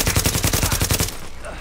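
Rapid automatic gunfire in the video game The Division, a loud burst of evenly spaced shots that stops abruptly after about a second, leaving a faint background hum.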